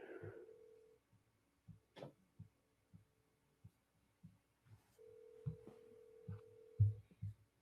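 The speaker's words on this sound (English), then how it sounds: "It's ringing." A phone ringback tone on an outgoing call, a steady tone repeating in long bursts with gaps between, with faint low thumps throughout and no talking.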